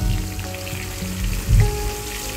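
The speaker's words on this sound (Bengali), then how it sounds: "মাছটাকে হলুদ দিয়ে এই যে সাদা তেলে একটু ভেজে নিচ্ছি" Turmeric-coated chitol fish pieces fry in white oil with a dense, close, continuous sizzle and a brief louder bubbling burst partway through.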